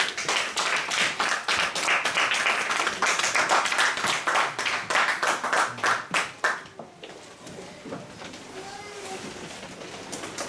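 A church congregation clapping together in steady rhythmic applause that fades into scattered claps and quiet room noise, with voices faintly underneath.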